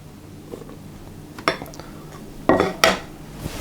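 Spoon or beater working strong white bread flour into St Lucia bun dough in a bowl, with a few close scraping knocks and clinks against the bowl, irregular and separated by quiet gaps.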